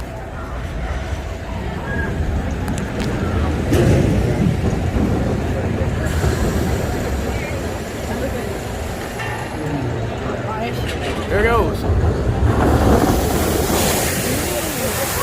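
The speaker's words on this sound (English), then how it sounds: "There goes the water. A test cycle of Aquaman Power Wave." Water splashing from the Aquaman Power Wave water ride during a test cycle at Six Flags Over Texas, a broad rushing surge heard outdoors under wind noise, with a person talking over it.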